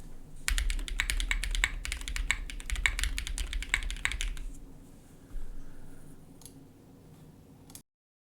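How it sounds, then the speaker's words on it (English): Rapid typing on a Class 65 plateless mechanical keyboard: dense, steady runs of crisp, clacky keystrokes, close and fairly loud, then slowing to a few scattered taps and going quiet. "Tell me if you can hear the keyboard through this mic"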